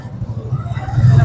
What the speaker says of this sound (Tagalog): Sobrang dami po yung tricycle mga kababayan.